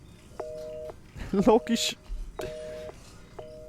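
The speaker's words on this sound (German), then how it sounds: "Das Telefon." A telephone rings in Resident Evil 7 with repeated electronic two-tone bursts at a steady pace, and someone talks over it partway through.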